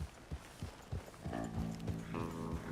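Horses in Red Dead Redemption 2 clip-clop along in a steady rhythm of hoofbeats, close by, before a low rumbling tone rises and holds under them.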